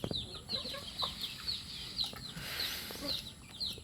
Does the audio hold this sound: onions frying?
no